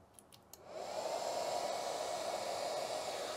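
The cooling fan of a flux-core welder spins up just after power-on and settles into a steady, loud airy whoosh, heard close after a few small clicks.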